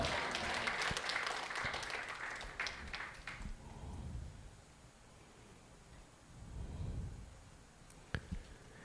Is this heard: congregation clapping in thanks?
yes